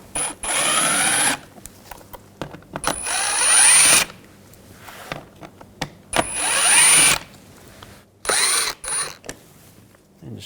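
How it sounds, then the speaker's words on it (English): A power driver with a T20 socket backs out screws from a seat panel on a 2021-2023 Jeep Grand Cherokee L. Several separate whirring bursts, each a second or so long, come close and loud, with small clicks between them. "Now using the T20 socket, we're going to take these screws out."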